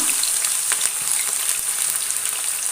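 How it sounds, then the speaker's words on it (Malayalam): Loud, crackling sizzle of ivy gourd frying in hot coconut oil, with bursts of spattering throughout and no voices. "നമുക്ക് ചൂടായ വെളിച്ചെണ്ണയിലേക്ക് നമുക്ക് കോവയ്ക്ക ഇട്ട് കൊടുക്കാം"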